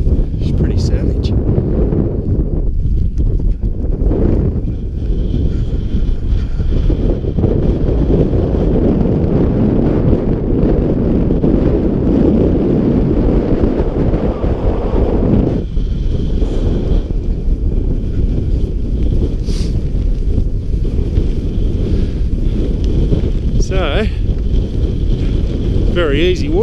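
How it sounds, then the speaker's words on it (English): Strong westerly wind on an alpine hiking track roars steadily against the microphone throughout, a loud, constant buffeting rumble with faint gusty variation and occasional distant sounds. "this westerly wind is pretty savage"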